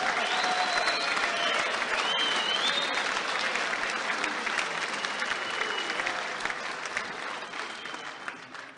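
An audience at an annual old boys' dinner applauds a school pipe band of pipers and drummers with sustained, dense clapping that stays loud before tapering slightly toward the end, with faint voices in the background.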